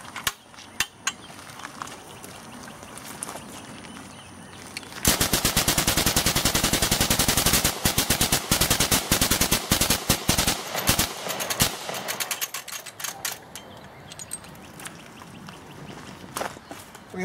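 Model SCRC Gatling gun firing ten rounds, a few mechanical clicks from the turning mechanism, then a loud rapid burst of close sharp shots followed by a ragged string of clacks and rattles fading out, no talk.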